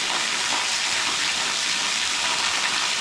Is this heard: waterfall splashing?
yes